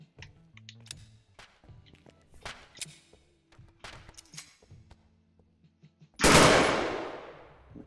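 Gunfire in the VR physics game Physics Playground: scattered clicks and taps lead up to one loud, sharp shot near the end that rings out and decays over about a second.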